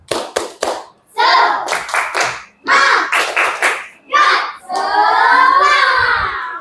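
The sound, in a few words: class doing a rhythmic spirit clap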